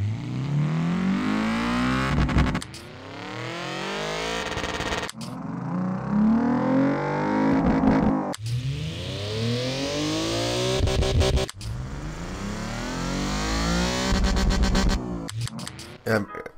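A drift car in the video game FURIDASHI Drift Cyber revs its engine hard in long rising sweeps, broken by sharp gear shifts and brief drops, loud and continuous for the whole stretch.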